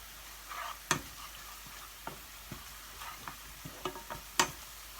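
Garlic stir-fries in a pan for a Thai holy basil curry paste, with a soft steady sizzle broken by sharp scattered clicks and scrapes of a utensil against the pan.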